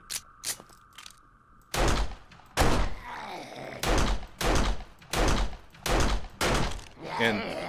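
Gunshots in the zombie survival game 7 Days to Die Alpha 17, about six loud, evenly spaced single shots, each followed by a mechanical clack, after a few softer clicks.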